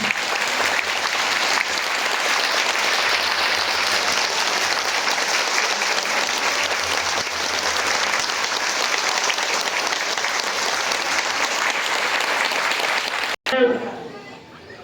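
An audience at a spiritual gathering in Ludhiana claps in sustained, dense applause that holds steady for about thirteen seconds, then cuts off abruptly before a brief voice.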